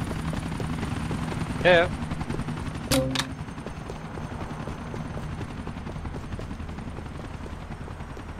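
In a GTA IV cops-and-robbers match, police helicopters chase closely, their rotors thudding steadily throughout with bursts of gunfire, while a player briefly speaks.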